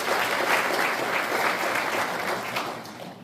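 Audience applause at a commemoration ceremony for the 106th anniversary of the Korean Provisional Government, a full, steady burst of many hands clapping that holds for several seconds and thins slightly toward the end.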